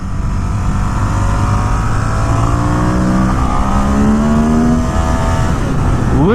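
2017 Ducati Monster 1200 R in sport mode accelerating hard out of a corner in second gear, front wheel lifting, its engine note climbing steadily in pitch, loud and close, ending with a quick rise on the next shift.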